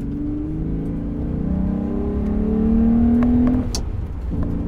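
A 2015 Volkswagen Golf GTI engine revs up hard, rising in pitch over a few seconds, then drops off as the throttle lifts, heard from inside the car.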